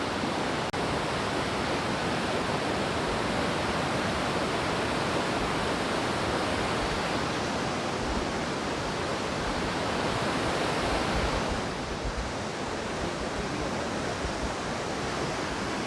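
Loud, steady roar of a river and a large waterfall near Kalpeshwar Temple in the Urgam Valley, Uttarakhand, a continuous broadband rush of water filling the scene with no voices.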